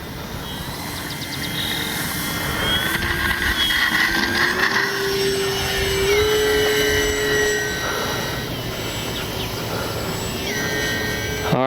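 Kavan Bristell B23 radio-controlled model plane on its maiden flight, a steady electric motor whine with a rising and falling pitch as it passes, moderately near and continuous throughout.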